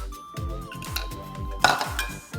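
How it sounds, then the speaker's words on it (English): Salad being tossed with coconut chutney vinaigrette in a bowl produces a rhythmic series of soft thumps and light clinks of utensils against the dish, close and moderately loud. "I'm gonna add my dressing to it and toss it well in the dressing"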